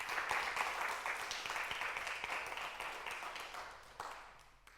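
Church congregation at a Spanish-language Sunday service applauding, a steady wash of many hands clapping that is fairly quiet and distant, slowly tapering toward the end.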